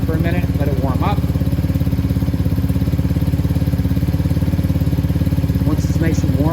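A 125cc Venom ATV engine idling steadily as it warms up, a close, even putter with a fast regular pulse throughout, while someone talks over it.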